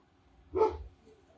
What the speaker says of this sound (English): Dog's going a little wackadoo because we had somebody here